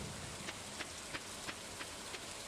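Steady rain falls across a Stardew Valley farm, a dense even hiss punctuated by soft periodic taps roughly every third of a second, no voices present.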